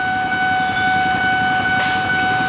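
A KRL commuter electric train passes close by after rain, a steady broadband rumble of wheels on rail with sustained high tones and a brief hiss surge near the end, no talk.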